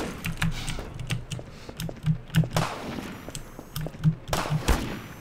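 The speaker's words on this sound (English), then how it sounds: "He's missing his first shots." Sniper rifle shots in Half-Life 2 ring out as a series of sharp, fairly close cracks spaced irregularly over several seconds, with clicky mechanical ticks between them.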